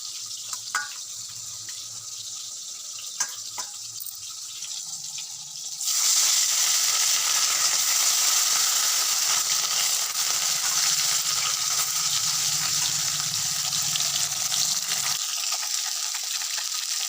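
Bitter gourd frying in a pan for shukto, a steady hissing sizzle that swells louder partway through and continues with faint clinks and kitchen noise.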